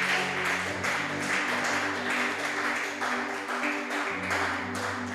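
A church congregation bursts into steady applause for Jesus, dense rapid clapping from many hands under a sustained low organ or keyboard chord.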